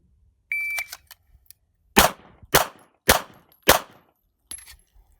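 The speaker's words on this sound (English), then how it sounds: "On the signal, engage all 4 of the dots, 1 shot per dot only." A short electronic start beep followed by four sharp, loud pistol shots at dot targets, evenly spaced about half a second apart, with a fainter click trailing afterward in an otherwise quiet range.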